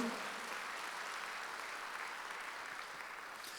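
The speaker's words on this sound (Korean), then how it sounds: "박수로 한번 드리세요" A church congregation claps during a Sunday worship service, a faint, sustained patter of applause heard from a distance in a large room.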